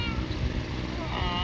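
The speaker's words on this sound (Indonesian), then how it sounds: "Ini ada kucing di sini buat jagain" A cat meows inside a built house, a clear but steady call set against a constant hum of background noise across the short clip, with no voices heard.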